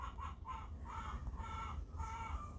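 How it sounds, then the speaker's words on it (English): Chickens cluck and a rooster crows outdoors in the background, repeated calls that are faint and somewhat distant over a low steady rumble. "And if you can hear the chickens in the background,"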